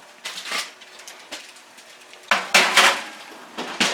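A baking tray of stuffed chicken and turkey burgers goes into an oven set to 400, with a series of close metallic clanks and scrapes that build to a louder cluster of knocks.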